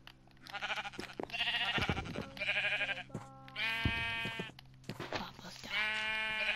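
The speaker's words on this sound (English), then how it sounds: "I'm gonna kill this sheep." Sheep in Minecraft on PlayStation 4 bleating repeatedly, several loud close wavering calls separated by short gaps, with faint voices in the background.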